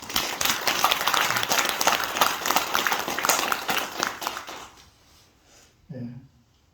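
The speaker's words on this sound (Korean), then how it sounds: "박수 한번 쳐요." An audience at a Buddhist Sunday service claps in a dense, lively burst of applause for several seconds before it fades out, then a short voice is heard.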